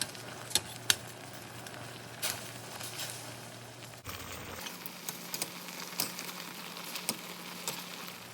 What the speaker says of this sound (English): Simmer over medium to low heat for 15 minutes.